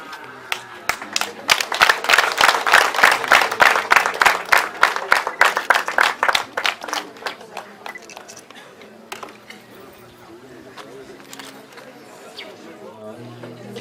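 Wedding guests clap in a fast, rhythmic burst that builds loud and dense, then thins out into scattered claps over murmuring voices.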